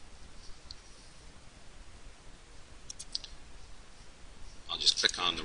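A computer mouse clicks while a SolidWorks rocket body part is rotated on screen: a few sparse, sharp clicks over a quiet background, with a quick cluster of clicks near the end.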